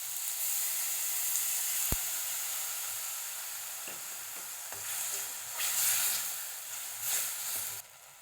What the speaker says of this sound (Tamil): கொஞ்சம் புளித்தண்ணி விடலாம்.